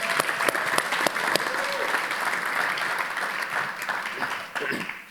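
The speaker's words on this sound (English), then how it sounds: "Round of applause for that, please." Audience applause during an onstage conversation with football players, a dense, sustained round of clapping from a large crowd, loud and even, tapering slightly toward the end.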